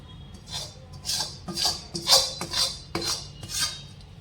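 Peanut brittle (sing pak) being spread on a ghee-greased plastic bag, giving a run of soft, regular scraping and clinking strokes of a utensil, about eight in quick rhythm, close and fairly quiet.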